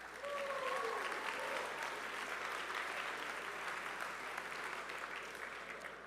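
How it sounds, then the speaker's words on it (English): An audience at a school awards ceremony applauds for volleyball players in a sustained burst of clapping, full at first and then slowly thinning, with brief faint cheering early on. "You can cheer."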